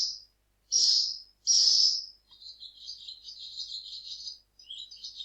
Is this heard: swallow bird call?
yes